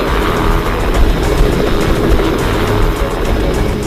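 A helicopter roars loudly and continuously overhead, its steady engine drone carrying a faint rapid chop of rotor blades.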